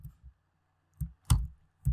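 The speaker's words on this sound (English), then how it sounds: "as we are typing it in here" Keys on a computer keyboard are tapped in a sparse, uneven rhythm. A few soft, close clicks come in quick pairs, separated by short silences.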